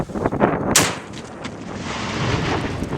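French Marines firing weapons on an outdoor shooting range in Djibouti: one sharp, loud gunshot crack rings out early, followed by rolling echo and wind noise, with no talk.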